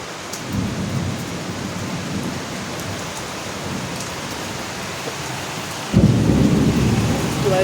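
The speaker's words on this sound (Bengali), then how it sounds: "কেমন ঝড় বৃষ্টি হচ্ছে আমাদের উলুবেড়িয়াতে" Heavy rain pours steadily during a thunderstorm in Uluberia, with thunder rumbling low beneath the downpour and a louder surge of wind-driven rain near the end.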